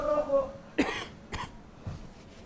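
A person coughs close by, a sharp burst followed by a second shorter cough and a softer one, after a brief bit of voice.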